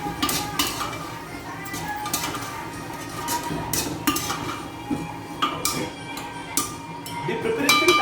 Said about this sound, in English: We will mix this paste very well now so that it's evenly spread.